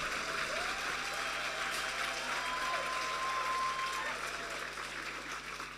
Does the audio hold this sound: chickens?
no